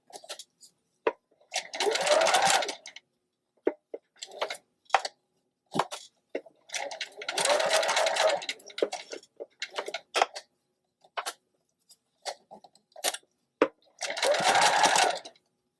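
A sewing machine stitches a curved seam in short, fast bursts of rapid whirring, separated by pauses filled with quiet clicks and handling noises as the fabric is turned, close and clear, with no speech.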